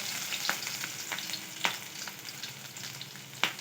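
Chopped green chili fries in a cumin tempering at the start of a mixed vegetable soup: a dense, close crackling sizzle with a few sharp pops and spatters scattered through it, no voices.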